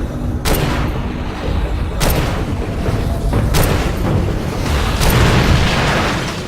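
Liquid propane tanks shot and blowing up in a video game: a few sharp explosive bangs at irregular intervals, the loudest about two seconds in, followed by burning rumble, over a dense, continuous fiery roar.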